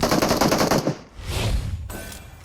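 Automatic gunfire in the mobile battle royale game PUBG Mobile: a loud rapid burst of shots, then a brief pause and a second volley, sharp and close with no talking.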